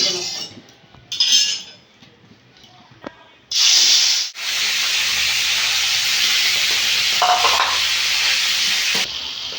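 Boal fish hits hot oil in a heated wok with a sudden loud hiss, settling into a steady, close sizzle that continues for several seconds after some quiet clinking.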